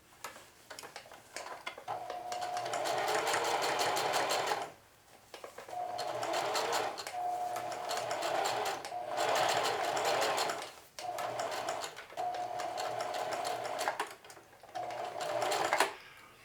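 A sewing machine stitches a folded seam on a jeans pocket, its fast rhythmic whir running in long bursts separated by short stops, close and steady, with no speech.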